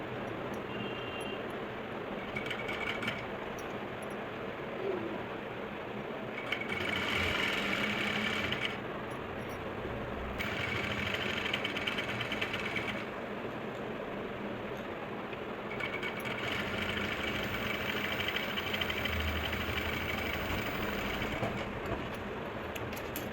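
A sewing machine stitches lace onto a salwar cuff in several bursts of a few seconds each, close and distinct. Quieter handling and a low background hum fill the gaps, with no speech.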